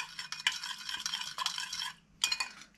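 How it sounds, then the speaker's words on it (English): A squid sauce of chili sauce and half a lime is mixed with a utensil scraping and clinking against its container in close, brisk strokes, pausing briefly before one last stir. "So the lime goes in, we'll give it a mix up."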